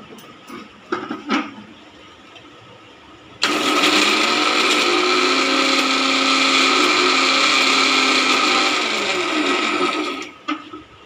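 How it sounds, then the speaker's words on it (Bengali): A kitchen mixer grinder grinds sugar for chutney in one loud, steady whirring burst of about seven seconds, with a few faint clatters before and after. "এটাকে এবার আমি গ্রাইন্ড করব।"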